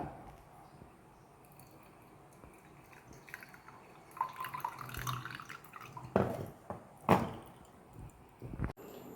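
Ground beetroot paste being strained in a kitchen, the liquid dripping through; the background stays quiet, then a few sharper drips and splashes stand out near the end.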